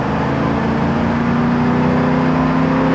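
A 1971 Mustang Fastback with a 302 four-barrel V8 pulls hard in first gear, its engine note steady and loud throughout with a rising, continuous rumble up close and no talking.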